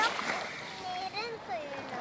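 Sea water splashing up close as children play in it, their voices chattering and calling over it.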